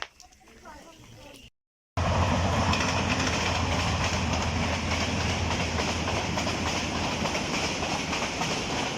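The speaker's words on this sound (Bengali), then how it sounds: "এটা লোকাল ট্রেন ছিল" A local train rolls past close by after a brief muffled stretch with a short gap, a loud sustained rumble with clickety-clack wheel noise that holds steady to the end.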